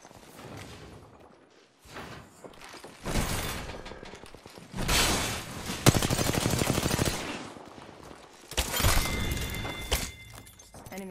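Enemy gunfire rips through a Bocek Legends video game fight in several loud, dense bursts with short quieter gaps between them and no voices.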